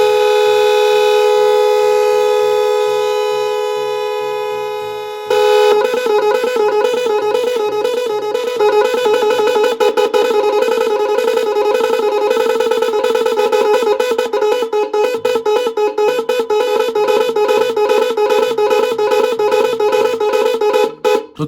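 An LED music horn fitted to a Hero Splendor Plus motorcycle plays loud, sustained electronic tones, first one long note, then a fast repeating warble, with no talking.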